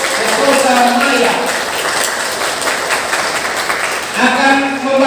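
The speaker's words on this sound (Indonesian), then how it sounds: "Kita panggil dan beri tepuk tangan yang meriah satu-satunya peserta pria" Crowd applause for the first reader at a Bible reading contest, a dense, even wash of clapping lasting several seconds with voices mixed in.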